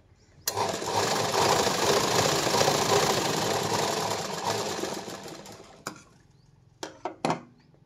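A sewing machine stitches silk blouse fabric in one steady, loud run of about five seconds, then stops, followed by a few short clicks and taps of handling.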